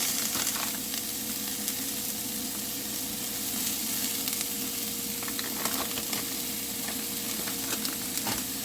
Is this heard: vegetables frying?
yes